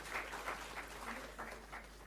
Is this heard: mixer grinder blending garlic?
no